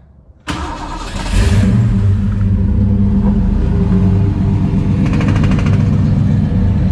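A 1990 Ford Mustang 5.0 Foxbody V8 with some blue smoke cranks over and catches, then settles into a loud, steady, close-up idle rumble that runs on alone.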